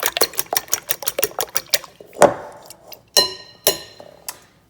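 Utensil clinking and scraping against a bowl while lasagna ingredients are stirred, in a quick steady rhythm of close, bright taps followed by a few louder, slower knocks.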